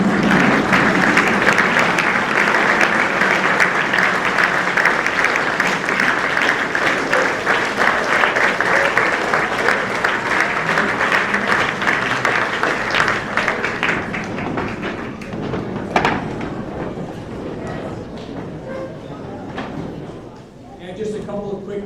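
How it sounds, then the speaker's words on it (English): An audience at a school's spring varsity sports awards ceremony applauds steadily for athletes and their families, a dense sustained clatter of clapping that thins out after about fifteen seconds, with scattered claps and murmurs remaining. "So if I can have all of our athletes stand up, clap, and acknowledge family and friends."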